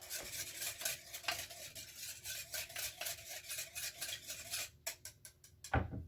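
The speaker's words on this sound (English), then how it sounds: "then we're gonna whisk this up real quick" A whisk beats aioli seasoned with salt and pepper in a bowl, producing a steady, quiet rhythmic scraping and ticking that turns into a few sharper clicks at the end.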